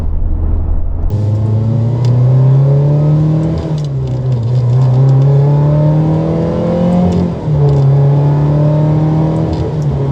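A 1997 Ferrari 355 accelerates hard, its engine note loud and close, climbing steadily through the revs with two brief dips at the gear changes before pulling up again.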